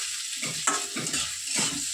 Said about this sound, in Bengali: এই দেখো, সকালে খাবার জন্য আমি আলু ভাজা বসিয়ে দিয়েছি